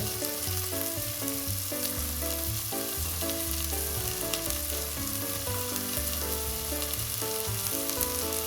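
Onions and garlic sauté in oil with a continuous sizzling hiss, heard under steady background music with a repeating melodic pattern.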